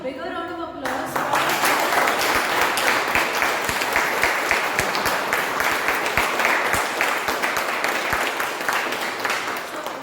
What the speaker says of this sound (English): Can we have a bigger round of applause for